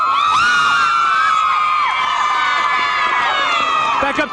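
Crowd of cheerleaders and fans yelling and whooping at a Thanksgiving high school football game between Pennridge and Qtown, a loud sustained mass of raised voices and shrill shouts filling the whole stretch.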